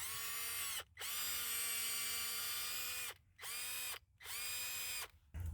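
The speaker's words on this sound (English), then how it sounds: "I'm just going to use the drill and kind of clean out the hole a little bit." A power drill cleans out a tap hole in a black walnut tree, whirring in three long runs separated by brief pauses, high-pitched and close, winding down each time it stops.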